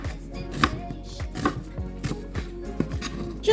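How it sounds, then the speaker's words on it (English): A knife chops through onions cut pole to pole on a cutting board, giving a quick run of crisp, close chops in an uneven rhythm, with no talk. "when you cut them like this, it's called pole to pole, your onions are going to hold together better"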